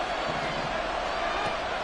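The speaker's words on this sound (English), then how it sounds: "The Arrowhead crowd in full roar." A stadium crowd at Arrowhead roars in a dense, sustained wash of cheering during a football game, loud and unbroken throughout.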